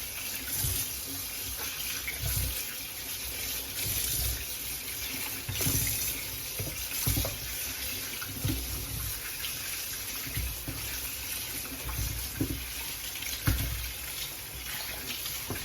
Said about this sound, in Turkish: taşır taşır akıtıyorum ya. Sanki suyun sonu gelmeyecekmiş gibi.